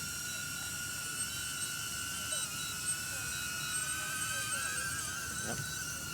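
A DJI Avata FPV drone flies overhead outdoors, its steady high-pitched propeller whine holding on continuously with shifting tones, fairly faint and distant, with no talking.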